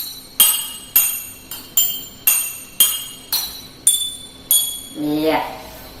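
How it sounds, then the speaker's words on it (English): Glass jars holding different levels of water are tapped one after another, giving about ten bright ringing clinks with short decays, some higher and some lower. A voice speaks near the end. "Whoa, the jar has very unique sound."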